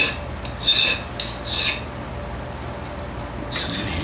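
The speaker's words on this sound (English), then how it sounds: "Starting with a coarse file, simply leveling it out." Coarse file rasping across a folding knife handle, a few separate strokes with a short pause in the middle, close by and moderately loud with no talking.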